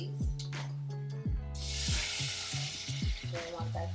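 Sweet peas tumble into hot bacon grease in a frying pan. A loud, close sizzle bursts up and holds steady, while low clunks and tonal rattles from the pan and utensils sound underneath.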